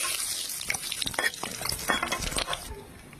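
Lentil dumplings (dal bori) fry in a pan at close range, giving a steady hiss broken by scraping stirs and light clinks of a utensil for about three seconds, with no talk.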